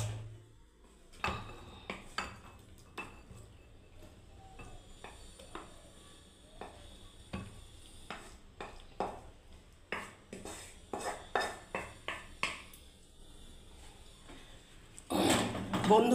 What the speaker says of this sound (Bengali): এবার আমি সবজিটাকে পরিবেশনের জন্য বন্ধুরা নামিয়ে দিচ্ছি।